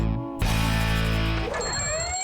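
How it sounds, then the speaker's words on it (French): Alarm clock ringing loudly, a harsh sustained electronic tone that starts abruptly and holds for about a second before shifting into a warbling, fading tail. "À 7h30 chaque matin, le réveil se met à sonner."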